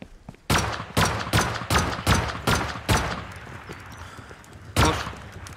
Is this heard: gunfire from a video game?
yes